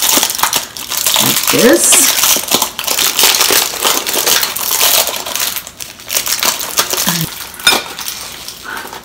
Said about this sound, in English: I'm going to close them up with foil wrap